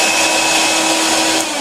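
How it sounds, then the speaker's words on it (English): A loud, steady vacuum sucking up carbon dust roars with a constant whooshing suction and a high whine, running alone without pause. "this may get a little noisy because of the vacuum I'm using to suck up the carbon dust"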